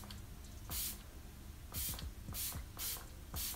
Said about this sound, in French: J'aime bien la brume. Et ça sent super bon.